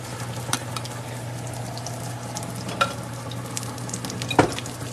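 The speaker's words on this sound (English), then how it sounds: "And let these fry up, and we're done." Pinto bean cakes frying in a pan beside potatoes give a steady sizzle with a few sharper pops and spatters, close and continuous, with no one speaking.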